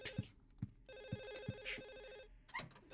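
A phone in Silent Hill 4 keeps ringing in insistent bursts, a buzzy repeating bell tone pulsing in rhythm with heavy thuds, clear and fairly close, cutting off abruptly near the end.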